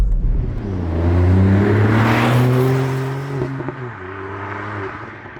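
Ford Fiesta ST MK8 with Mountune M225 package accelerating hard in a drag race, a loud rising engine note climbing through the gears, with a brief gear-change dip before pulling again, no talk.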